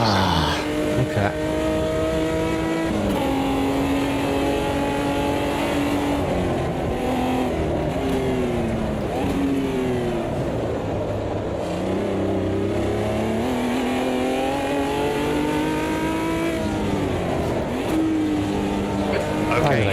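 Race car engines roar continuously in the racing game Automobilista 2 during an SDRS stock car round at Londrina, loud revs rising and falling with gear changes as cars run side by side, with someone talking over them throughout.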